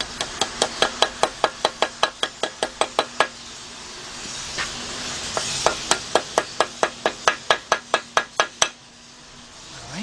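Light hammer taps setting parts down into an engine cylinder head during a head gasket and timing chain rebuild on a Chevy Equinox or Buick Rendezvous: two long runs of sharp, evenly spaced metallic taps, close and clear, with a short pause between them.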